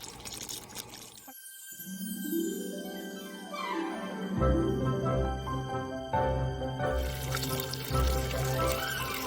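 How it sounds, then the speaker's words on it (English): Running tap water pours and splashes over sweet potatoes being washed for a classic sweet potato pie, a steady close stream with shifting drips and gurgles, no talking. "Wash and cook your sweet potatoes."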